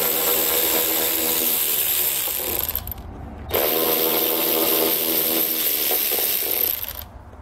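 A power tool runs in two long bursts with a short pause between, removing 7mm bolts from behind plastic caps while a trailer hitch is fitted to a 2020 Chevrolet Traverse; close and loud, no talking.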